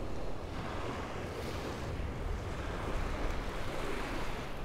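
Atlantic Ocean surf rolls in through the Fire Island breach into the bay, a steady, loud wash of waves mixed with heavy wind buffeting the microphone.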